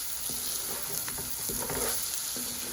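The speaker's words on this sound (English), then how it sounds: "So be careful as you're stirring it" Rice with cumin is stirred in a cooking pot, a quiet continuous sizzle with soft scraping strokes of the spoon close by and no talking.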